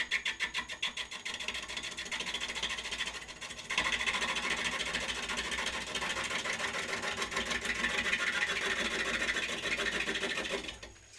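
Wood lathe hollowing cut made with the side wing of a gouge, a steady rasping, whirring tool-on-wood noise with a faint mechanical drone, growing slightly fuller partway through and running continuously with no talk.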